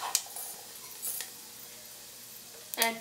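Whole spices are stirred in a pan with bay leaf, cinnamon stick, green cardamom, cloves, peppercorns and fennel seeds, giving a faint sizzle. A few soft clinks of the utensil against the pan come through in a quiet kitchen.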